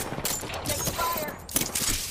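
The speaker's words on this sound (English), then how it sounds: "Listen up, I'm getting shot at." Gunfire in Apex Legends Arenas, a dense crackle of rapid shots and bursts close by, mixed with voices and game sounds.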